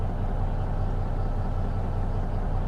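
Simulated Peterbilt truck with a Cat engine idling in a trucking game, a steady low rumble with a faint rhythmic pulse, moderately quiet and continuous with no voices.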